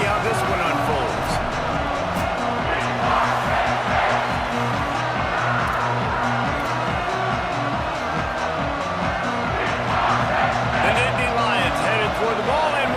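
A stadium crowd roars in the College Football 27 video game, a dense, continuous wash of cheering and rumble from a large audience, with a commentator's voice talking over it throughout.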